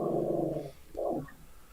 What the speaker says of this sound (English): For a little dog, it sounds like a big dog.